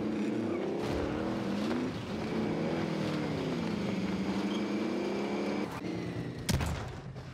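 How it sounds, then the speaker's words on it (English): Game vehicle driving in Warzone, a steady engine drone with shifting pitch carrying through most of the stretch, broken by a couple of sharp impact bursts near the end. "Take my vehicle there."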